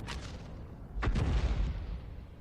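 Grille self-propelled artillery gun firing in a tank video game, a short sharp crack followed by a heavier booming blast with a lingering low rumble.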